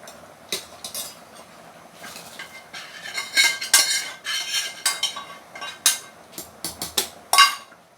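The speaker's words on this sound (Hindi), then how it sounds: "अब करते हैं गैस ऑफ और इसको पलट देते हैं इस तरफ।" Cooking pot handled and flipped over on a gas stove just switched off, a close series of irregular metallic clanks, scrapes and clinks, the louder knocks bunching toward the end, with no talking.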